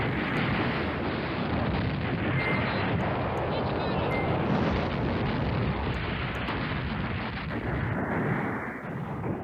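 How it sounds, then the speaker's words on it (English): Airstrike in the wargame Command Ops 2 on a Rethymnon roadblock: a dense, continuous roar of rumbling explosions and artillery-like blasts, loud and sustained throughout with no clear gaps. "We have another airstrike."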